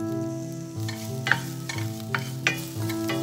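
Okra sautéing in a pan with salt, turmeric and chili powder for a bhindi curd masala, a steady sizzle with occasional stirring scrapes and clinks, close and without speech.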